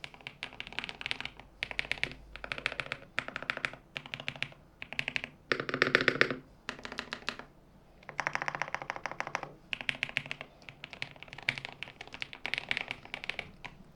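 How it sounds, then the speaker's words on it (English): Close-up typing on a NuPhy WH80 keyboard with magnetic switches, a steady stream of crisp clacky keystrokes in quick bursts separated by brief pauses, with no voices. "I am going to get as close as I can to the keyboard so you guys can hear everything."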